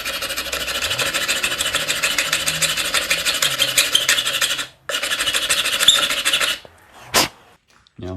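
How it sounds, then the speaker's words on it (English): Fine file rasping over a 3D-printed part, rapid repeated back-and-forth strokes, loud and close, pausing briefly before a final short scrape. "I'm just going to go over those now with a fine file."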